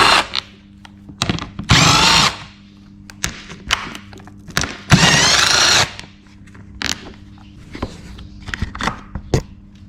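A power tool works the seat bolts at the rear fender of a 2020 Kawasaki KLX300, giving short whirring bursts and two longer loud runs, with clunks and tool taps in between over a steady low hum.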